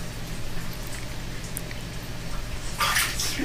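Water sloshes and splashes in a bathtub during a child's bath, with a steady drip-like patter near the microphone that swells into a louder splash toward the end.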